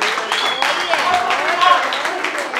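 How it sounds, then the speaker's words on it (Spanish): Audience applause at a murga carnival performance, a dense wash of clapping over the whole stretch with voices and cheering mixed in. "Un aplauso, por favor"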